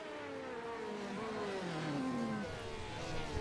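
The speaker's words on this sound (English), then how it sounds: "I hear a car going" Race cars in an online endurance racing game of the 12 Hours of Le Mans, engines whining and sweeping down in pitch as they pass, held at a steady moderate level throughout with a faint mix of overlapping motors.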